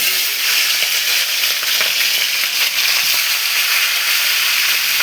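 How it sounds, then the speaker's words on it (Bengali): A fish head fries in hot oil, giving a loud, continuous close-up sizzle and crackle that holds steady without pause. "আগে মাছের মাথাটাকে ওই ভেজে নিচ্ছি"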